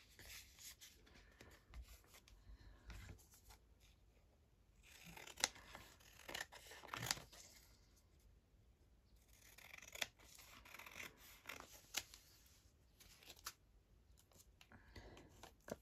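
Scissors snipping through paper while trimming pages for a collaborative art journal, a series of quiet close crisp cuts in uneven bursts with small rustles between.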